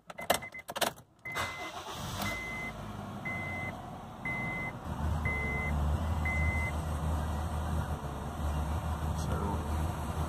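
A 2009 Honda Fit engine cranks and catches after a few clicks, then settles into a steady idle while a repeating electronic beep chimes several times.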